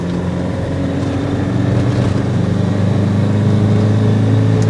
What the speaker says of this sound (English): Second gear. Let's turn to the right and full throttle.